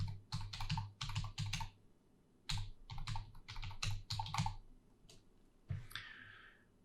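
Quiet typing on a computer keyboard in short clustered bursts of clicking keystrokes, with brief pauses between them and a final softer click.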